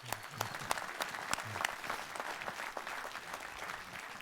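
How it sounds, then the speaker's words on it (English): Steady, fairly faint applause from an audience at a horse racing champions awards ceremony, continuous clapping with a few louder individual claps near the front. "I want to give them a great round of applause"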